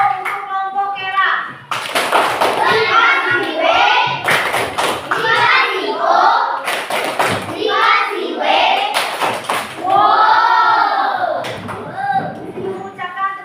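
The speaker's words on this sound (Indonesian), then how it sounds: "Kita kasih tepuk wow untuk kelompok Kera" A class of children claps together in a rhythmic 'wow' cheer for another group, loud bursts of hand claps mixed with children's voices and an adult talking in between.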